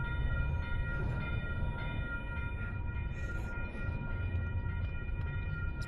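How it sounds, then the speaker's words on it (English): A long train rolls past with a steady, loud, dense rumble and clatter, while a horn tone holds high over the noise throughout. "Oh, this train is long."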